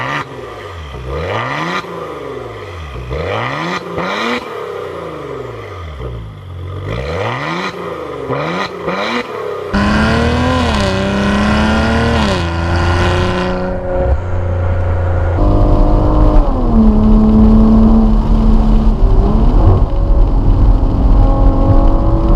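A Maserati Levante S Q4 SUV engine revs repeatedly, rising and falling in pitch, then holds a loud sustained roar as it accelerates through gears, close by.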